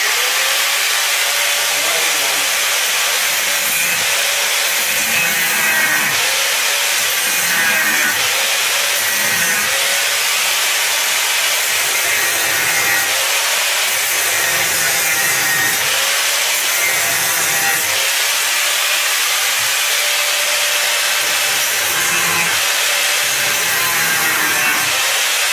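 A power saw cuts through scrap material for a homemade wheelbarrow, a loud continuous whining drone with a harsh broadband rasp and slight pitch wobbles as the blade works, close up and steady, with no speech.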